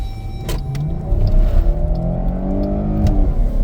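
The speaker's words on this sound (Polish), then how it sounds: "A teraz tak obiecywaliśmy przyspieszenie samochodu na gazie." A 2017 Chrysler Pacifica with the 3.6-litre 286 hp engine, running on LPG through a BRC gas system, accelerates hard; the engine drone is loud and close and rises steadily in pitch for several seconds, with no talking.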